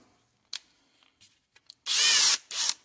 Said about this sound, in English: We're going to use a drill.